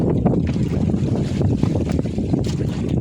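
Strong gusting wind buffets the microphone in continuous low rumbling bursts, loud and close, with no voices.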